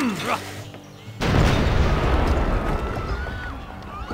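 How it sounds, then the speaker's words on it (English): An artillery strike in Civilization V: quiet tones and a brief voice give way to a sudden loud boom that rolls into a sustained, crackling barrage and slowly decays. "that was a pretty powerful artillery strike"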